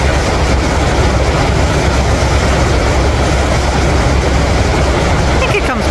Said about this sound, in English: It is really close to the train tracks. That's why this train is coming so slow.